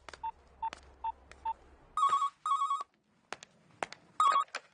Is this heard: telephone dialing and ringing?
yes